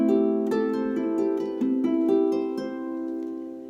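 Double strung harp plucking a Carolina Wren rhythm pattern, alternating hands a third apart like a seesaw from the bottom, with bright repeated plucked notes in an even lilting pulse over a ringing sustain, quiet and close with no talk.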